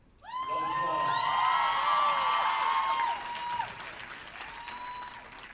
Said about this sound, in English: Can we get another round of applause for Mr. Samuel again?